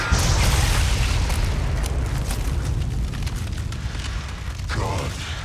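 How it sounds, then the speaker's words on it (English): A deep, rumbling explosion in the Resident Evil 4 Remake video game, a loud sustained roar of noise with crackling debris and a rolling low-end tail. "An explosion causes BITORES to show off his true colors and monster form."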